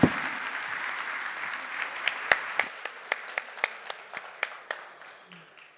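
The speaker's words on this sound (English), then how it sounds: "Big round of applause" An audience applauds at a PGDM orientation program, a dense wash of many hands clapping with sharp individual claps standing out, then tapering off near the end.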